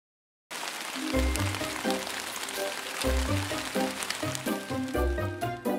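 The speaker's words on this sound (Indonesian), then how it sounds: "Hujan turun deras di luar." Heavy rain pours down outside in a cartoon scene, a steady hiss of falling water under a repeating musical score, with no talking.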